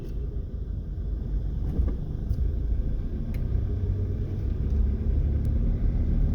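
A first-generation Honda Odyssey RA1 van cruising slowly, its engine and road noise forming a steady low rumble that stays even and moderately loud throughout, with no voices.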